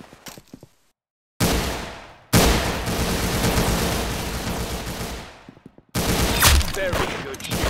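Rapid gunfire from the Arsenal video game comes in long, loud sustained bursts of automatic shots, separated by brief silent gaps, with no talk over it.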